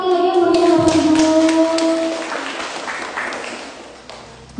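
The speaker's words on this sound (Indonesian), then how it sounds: "Boleh tepuk tangan sekali lagi yang mulia Bapak Ibu." Indonesian workshop audience on making candles from used cooking oil clapping after a presenter, applause under a sustained musical or voice tone early on, then fading and thinning out.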